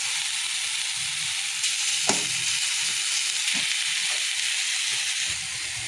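Fenugreek greens (methi saag) sizzle and fry steadily in a pan, a continuous broadband hiss with a few brief clinks of stirring, close and fairly loud throughout.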